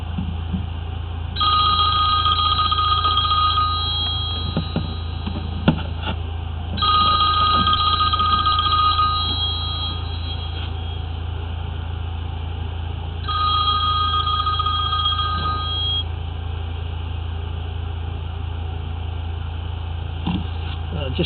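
A telephone rings in three long electronic bursts spaced several seconds apart, heard during a blocked-drain job in Sydney over a steady low engine-like hum.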